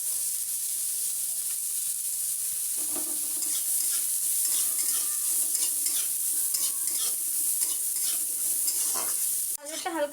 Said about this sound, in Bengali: গাজরটা দিয়ে ভাজবো।